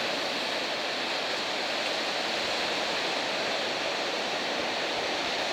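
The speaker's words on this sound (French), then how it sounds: "Ce sont les petites vagues de la calmie" Continuous broadband wash of small ocean waves in a calm spell with offshore wind, a steady hiss of small waves breaking without distinct crashes, no voices.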